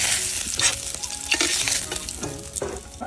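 Dry red chillies, cumin and garam masala frying in hot oil with a bright crackling sizzle, punctuated by several sharp scraping and clattering stirs of a spatula, close and loud with no speech.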